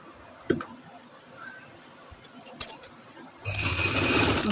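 A sewing machine stitching salwar fabric sits quiet behind a few soft handling clicks, then starts up loudly and runs in a steady, close, rapid whir for the last second.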